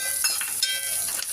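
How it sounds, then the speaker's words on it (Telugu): Onions sizzle in a hot pan for thotakura pachadi, a bright steady frying hiss with a few soft stirring scrapes, close and fairly loud, no talking. "ఆనియన్ లైట్గా ఫ్రై కావాలి."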